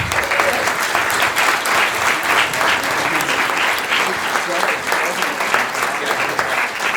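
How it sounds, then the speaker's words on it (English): Audience applause for the panelists at a Santa Cruz District 1 and Measure M political forum: steady, dense clapping from a roomful of people that holds evenly for the whole stretch. "let's give them a round of applause."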